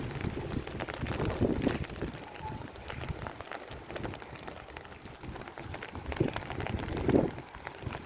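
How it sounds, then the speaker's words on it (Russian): Strong gusts of wind on a rainy day in a Tashkent park buffet the microphone in rumbling bursts, mixed with the patter of rain on an umbrella and the wet surroundings. "Такой ветер прям сильный, у меня зонт выхватывает, не могу удержать."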